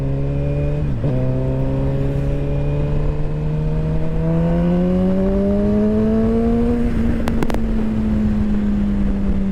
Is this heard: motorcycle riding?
yes